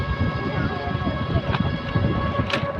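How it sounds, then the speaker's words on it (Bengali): Wind rushes past a microphone on a moving cycle rickshaw during a night ride through town, a constant low buffeting roar with faint road rumble and a couple of brief higher bursts. "রিক্সার ওপরে অনেক বাতাস হচ্ছে"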